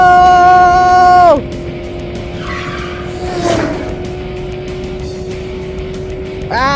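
An animated remote control car race, with a high whining motor that drops off sharply, tire screeches and skids, then the whine climbing again at the end, loud and close.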